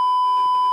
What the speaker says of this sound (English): I promise you, I won't press the beep button again